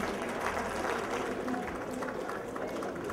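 An audience at an evening event applauds, producing a continuous, moderately distant wash of clapping mixed with crowd murmur.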